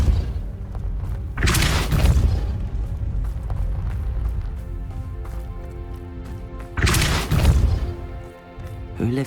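Two heavy magical blasts from the Depulso spell in Hogwarts Legacy, a pushing charm striking with deep booming thuds near 1.5 and 7 seconds over a steady rumbling game ambience.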